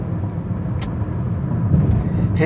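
A white 2015 Honda HR-V 1.8 E Limited on a test drive, its engine and road noise forming a steady low rumble, with a brief hiss and soft clunks near the end.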